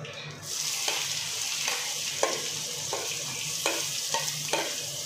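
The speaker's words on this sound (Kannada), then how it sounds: "ಆನಿಯನ್ನು ಒಂದು ಸ್ವಲ್ಪ ಫ್ರೈ ಆಗಲಿ" Finely chopped onion frying in oil for soya kurma, a continuous close sizzle broken by repeated scraping stirs at a loose, regular pace, with no talk.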